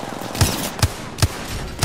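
Four sharp gunshots in a video game crack out singly at roughly even intervals, each a loud, broad burst over a steady low background hum.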